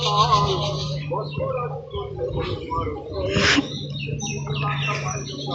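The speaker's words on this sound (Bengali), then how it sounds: "চারিদিকে বিভিন্ন রকম পাখির ডাকে জায়গাটি মুখরিত হয়ে আছে।" Various birds call near a village pond, with scattered chirps and short whistled notes at moderate distance over a steady low hum and faint rustling.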